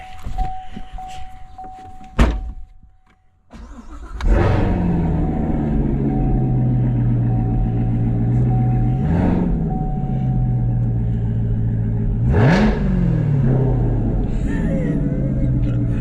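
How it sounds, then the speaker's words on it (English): Chevrolet Corvette with the top down, engine cold starting after a few faint clicks, then settling into a loud, steady idle with two sharp revs that rise and fall. "it's time for a little cold start action"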